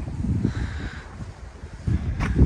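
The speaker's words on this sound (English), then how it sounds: "It's still kind of windy" Gusty wind at about 12,000 feet elevation on Weston Pass, Colorado buffets the microphone with low rumbling bursts and a steady rushing hiss, rising and falling.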